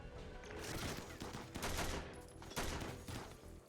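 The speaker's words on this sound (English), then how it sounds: "Load of gunfire coming our way" Bursts of rapid video game gunfire, dense automatic volleys in several waves with brief lulls between them, loud and close, with no voices.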